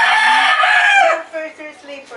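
A rooster crows loudly and close by in a Philippine family setting, one long drawn-out call that trails off, followed by softer fowl sounds.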